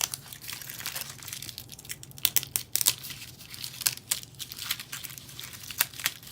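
A masking strip being peeled off a painted surface, giving a run of crackly tearing and crinkling bursts at close range, with quiet pauses between pulls.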